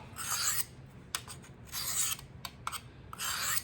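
A knife stroked across a 600 grit sharpening stone with angle guides: three rhythmic rasping passes, each about half a second, close and fairly quiet, with light taps and scrapes between strokes and no speech.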